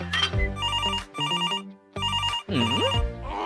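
A cellphone ringtone for an incoming call plays as loud, repeating melodic bursts with short gaps between them. There is no talking.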